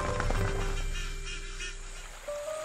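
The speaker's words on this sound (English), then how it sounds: "a flock of another threatened species, the Philippine duck, the only endemic duck species in the country" A flock of Philippine ducks calls with honking, nasal notes, several overlapping at moderate distance over a steady outdoor background, no voices.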